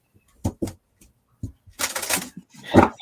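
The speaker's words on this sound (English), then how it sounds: "I like the sound of the card shuffling." Several quick bursts of tarot card shuffling, short riffling flutters separated by brief pauses, close and fairly loud, ending in a denser crisp riffle.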